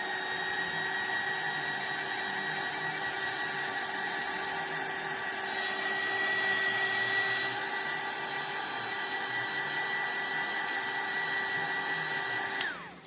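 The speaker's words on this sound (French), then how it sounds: "j'y passe un coup de Heat Gun." A heat gun blows steadily on water-based distress paste while drying a scrapbook craft pumpkin. The whir holds for about twelve seconds with a steady tone and a slight pitch shift midway, then cuts off abruptly.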